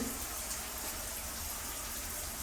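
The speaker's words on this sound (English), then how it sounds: "And now I'm going to open the shower so you see." Shower water runs steadily onto a rubber bath mat in a tub, a continuous broadband splashing hiss that stays even and fairly loud throughout, with no talking.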